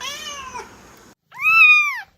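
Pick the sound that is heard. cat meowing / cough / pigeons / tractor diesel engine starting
cat meowing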